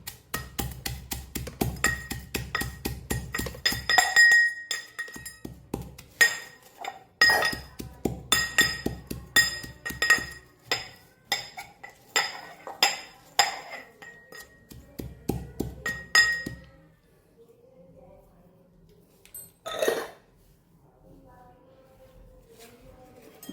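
Chavanu, a spicy-sweet snack mix, crushed by hand while seated, giving rapid repeated crunching and pounding knocks in bursts with brief pauses, then a quieter stretch and one final thump near the end.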